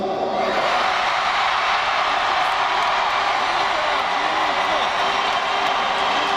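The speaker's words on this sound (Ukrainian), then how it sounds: "Перший зараз має крикнути фан-зона" Concert fan zone crowd at an arena in Lviv shouting together in a sustained, loud roar that swells in after a brief quieter start and continues steadily throughout.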